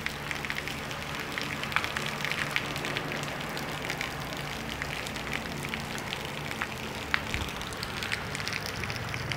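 Heavy rain falls in Umari, Ceará, a steady, dense patter drumming on surfaces throughout. It is moderately faint and continuous, with no talking.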